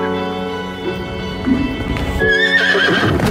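A horse neighs loudly and close by while hooves clip-clop steadily underneath, with the whinny rising into a shrill, drawn-out call near the end and no talking.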